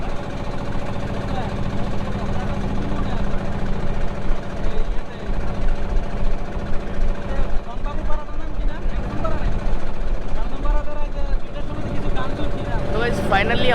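A motorboat engine drones steadily on the trip from Kaptai to Bilaichari in Rangamati, a loud continuous hum throughout with a person talking over it.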